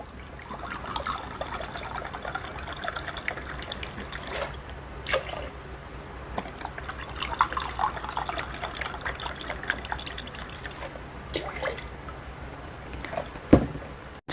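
Brewed vinegar and dark soy sauce being poured in for pickled garlic, a soft steady trickle and splash of liquid running for several seconds with a few faint clinks near the end.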